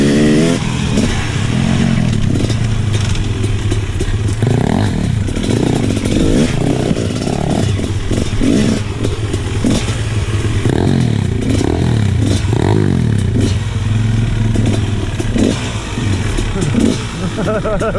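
A KTM 250sx two-stroke dirt bike engine revs loud and close, rising and falling in repeated throttle bursts over a steady idle, with voices mixed in.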